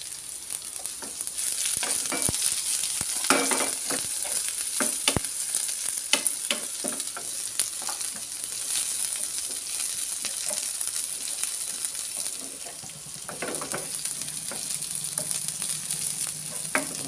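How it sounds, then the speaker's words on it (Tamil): Onions sizzle and crackle steadily in a hot pan, with occasional scraping of a spoon as they are stirred. "மிக்ஸ் பண்ணி இப்போ வெங்காயம் போட்டுருவோம்"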